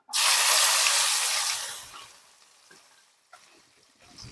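Spices hit hot oil with a loud, sudden sizzle that hisses strongly, then fades steadily to a faint crackle within a few seconds, with chillies, tomatoes and ginger added for dal.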